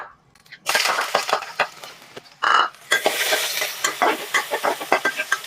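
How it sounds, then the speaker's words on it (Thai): Garlic frying in a little oil over medium-low heat, bursts of crackling sizzle with stirring scrapes and clinks in an uneven rhythm, close and fairly loud, with a brief pause near the start. "เจียวใช้ไฟ กลางค่อนข้างอ่อนนะคะ กระเทียมเราจะได้มีความหอมมากขึ้นนะ ค่อยๆเจียว"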